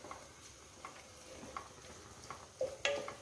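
Fried rice with soy sauce being stirred in a pan: faint scraping and soft clinks of a utensil against the pan over a low sizzle, with a few sharper metallic taps near the end.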